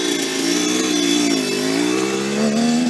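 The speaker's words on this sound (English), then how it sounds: "you pull in your clutch, shift down, slowly take off. Give it a little bit of gas." A dirt bike's engine revs steadily under light throttle as the rider pulls away, a continuous close, loud drone with its pitch dipping slightly and rising again near the end.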